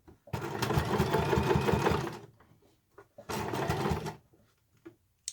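A sewing machine stitches along a folded edge of fabric for a reversible carry bag, two loud runs of rapid motor whirring and needle thumping, one about two seconds long and a shorter one, separated by quiet handling.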